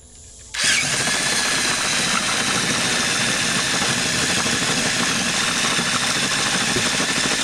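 A power drill bores holes while an EZGO golf cart rear flip seat is installed, starting abruptly and running at a steady loud whine for several seconds without pause.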